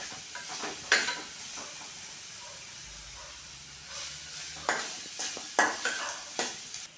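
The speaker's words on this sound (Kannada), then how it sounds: "ಫ್ರೈ ಮಾಡೋಣ." Spices frying for mint rice in a pan, with soft sizzling hiss under repeated stirring scrapes and a few clinks of the spoon against the pan, close and fairly quiet.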